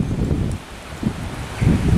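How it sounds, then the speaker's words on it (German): Strong gusty wind roars beneath a storm shelf cloud during a severe thunderstorm near Kerken, buffeting the microphone in loud, uneven surges that swell and ease, with no voices. "Und es hört nicht auf mit dem Wind."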